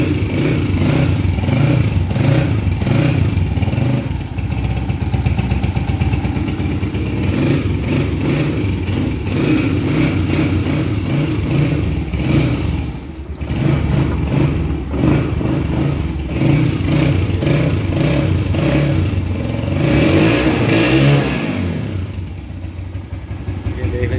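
A 2019 Honda CG 125 motorcycle starts up and runs steadily, its single-cylinder engine loud and close with a dense, even throb, rising in a couple of revs and slight swells toward the end.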